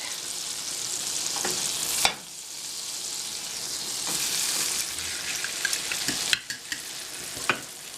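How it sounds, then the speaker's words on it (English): Pork chops sizzle and fry steadily in a hot pan with melted fat, a continuous close crackle with a few clinks and stirring knocks, no talk. "we're going to put the pork in and we're going to let it cook for 2 minutes on each side"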